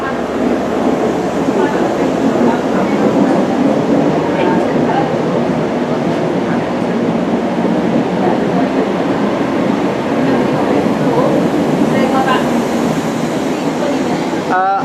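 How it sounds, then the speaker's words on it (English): A Great Western Railway HST led by power car 43150 pulls out at Dawlish on the 1334 Paddington to Paignton service, a loud sustained rumble of wheels and engine rolling past close by with occasional squeals. "pulling out now is 1334 Great Western Railway service to Paignton from London Paddington"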